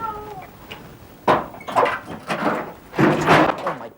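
A cat meowing in several drawn-out, strained cries, loud and close, in a room with a faint background hum.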